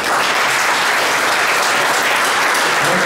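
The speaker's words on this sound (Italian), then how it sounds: "questo applauso che hanno ricevuto" An audience at a painting competition award ceremony in a palazzo claps steadily and loudly, a dense, even applause that fills the whole stretch without a pause.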